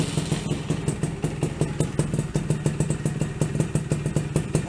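A restored Yamaha motorcycle engine with a bamboo racing exhaust idles after starting, a steady rapid loud putter close by with no talk.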